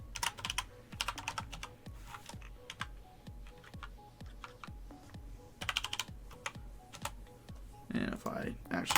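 Rapid typing on a computer keyboard while coding, with dense irregular keystroke clicks in bursts, fairly close and clear, and a low steady background hum throughout.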